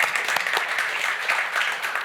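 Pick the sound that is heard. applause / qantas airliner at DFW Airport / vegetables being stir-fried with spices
applause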